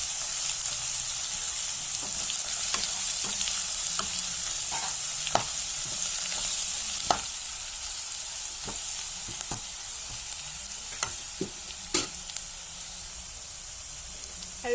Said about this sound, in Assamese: মই পিঁয়াজ আৰু ৰচুন আদা দি ভাজি লৈছোঁ